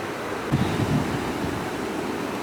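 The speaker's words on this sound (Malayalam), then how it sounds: "പല സമയങ്ങളിലും തിര വരുന്നത് വളരെ വലുതായിട്ടായിരിക്കും" Sea waves on the rocky Aazhimala coast roll in as a steady broadband wash with a fuller surge near the start, heard alone with some wind rumble and no voices.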